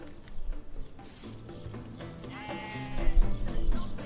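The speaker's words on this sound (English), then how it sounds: "Can I pet the cow?" A cow in the Divinity Original Sin Enhanced Edition game, giving drawn-out lowing, bleat-like calls that rise and fall twice over a background game sound bed, with no talk.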